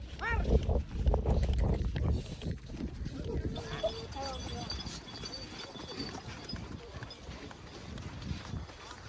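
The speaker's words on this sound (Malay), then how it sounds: "Jom naik kuda sama-sama." Horse hooves clip-clop on a ride up Mount Bromo in East Java, Indonesia, mixed with wind rumble and crowd chatter; people talk close by throughout, and the hoof beats sit partly under the voices and noise.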